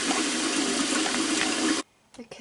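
Tap water gushes steadily into a large 17-litre metal cheese pot, a loud continuous rushing fill that stops abruptly, followed by a couple of faint knocks.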